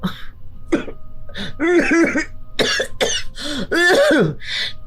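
A person coughs and clears their throat several times in rough, voiced bursts close by, one hack following another with short gaps between.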